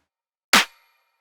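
Three layered electronic snare drums sound together as one sharp, bright hit that decays quickly into silence.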